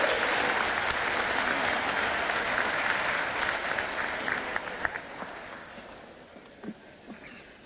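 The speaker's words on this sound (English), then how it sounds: "let's give a big round of applause to DOC" Audience applause at a resiliency summit in Trenton, New Jersey, a steady dense clapping that fills the room and gradually tapers off, with a few scattered claps near the end.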